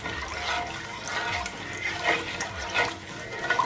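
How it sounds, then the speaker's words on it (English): Teriyaki marinade with added jerk seasoning is stirred in a cooking pot, giving a wet sloshing swirl with a few soft scraping sweeps, fairly close and steady, with no talk. "And you want to give it a stir"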